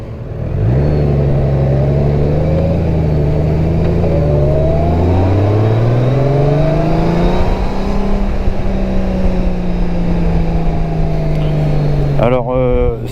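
A 2024 Honda Goldwing motorcycle engine hums smoothly and loudly up close, its pitch rising and settling through gear changes, with a rider talking over it throughout.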